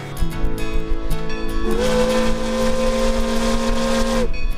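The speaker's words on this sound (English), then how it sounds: "that's the whistle. He just opened up the whistle valve." A loud, sustained steam locomotive whistle on the Nevada Northern Railway blows close by, its steady tone shifting in pitch partway through and holding for several seconds over engine noise.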